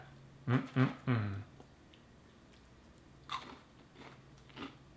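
Homemade candied pecans are bitten and chewed up close in a few crisp crunches, following a short hummed murmur of appreciation from the eater.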